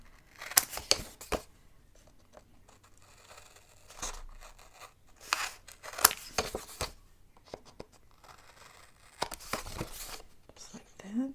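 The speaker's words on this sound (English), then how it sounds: "And then we'll go ahead and trim out the corners." Paper corners being trimmed for a fall mini album with pocket pieces, with sharp close snips and rustles in scattered short bursts between quiet gaps.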